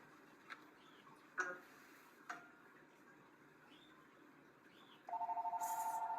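During a live dog grooming demonstration, a telephone starts ringing near the end with a rapid, pulsing electronic trill, clear and fairly loud after a quiet stretch with a few soft knocks.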